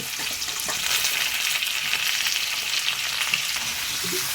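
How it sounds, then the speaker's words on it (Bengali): Potatoes with pointed gourd, pumpkin and ridge gourd fry in a pan, giving a loud, steady, close sizzle and crackle with no talking. "আলু সব দিয়ে প্রথমে ভালো করে ভেজে নেব"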